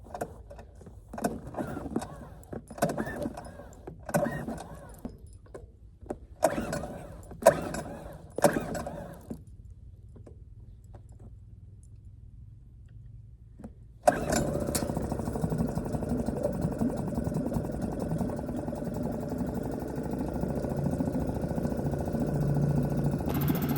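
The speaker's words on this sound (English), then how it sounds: "So we're gonna go ahead and put it over on the tank and give her a first start." Suzuki 2.5 outboard motor on a kayak setup being started in a test tank: several short pull-cord attempts and clatters, a quiet pause, then the engine catches and runs at a steady, close, loud idle drone.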